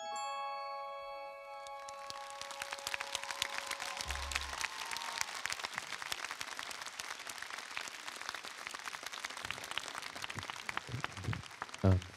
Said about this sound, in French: Encore un tonnerre d'applaudissements pour Evenchella.